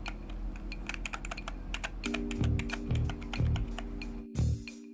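Someone types on a Gadget Hunter 618 wired mechanical gaming keyboard with tall floating keycaps. Rapid, close clicks and clacks run throughout, and a few heavier thuds near the end sound like the space bar or larger keys.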